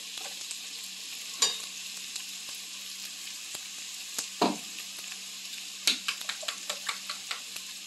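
Bitter gourd fries with egg in a pan, giving a soft steady sizzle broken by a few sharp scrapes and a run of quick spatula taps near the end.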